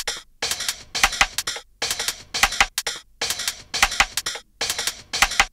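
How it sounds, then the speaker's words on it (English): Fast hi-hats and bright, clicky percussion in a breakbeat play in tight bursts separated by brief gaps, a crisp, close rhythmic pattern with little low end and no voices. "The hats and the percussion together sound like this."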